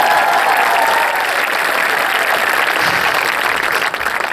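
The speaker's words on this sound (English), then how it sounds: "A round of applause." Crowd applause at a high school graduation ceremony for the class of 2018: a large audience claps loudly and steadily for several seconds, with a slight dip near the end.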